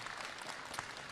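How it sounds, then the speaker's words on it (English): Dense, steady applause from an audience at a 2022 event for the Chilean president in Canada, a continuous crackling wash of many hands clapping with no break across the short moment. "How about a round of applause for everything they're doing in Chile?"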